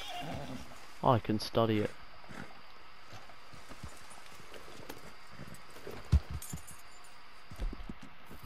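A horse in Red Dead Redemption 2 gives a sharp whinny early on, and hoof clops and small knocks follow sparsely over a quiet background, with someone speaking briefly.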